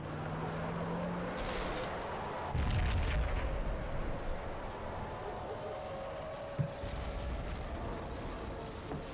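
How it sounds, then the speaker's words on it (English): A bomb explosion in the video game Max Payne: a heavy, rumbling blast booms over dense, continuous noise, with a sharp pop later amid the roaring din. "Another bomb exploded inside the closest slum building."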